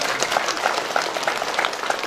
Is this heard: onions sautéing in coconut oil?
no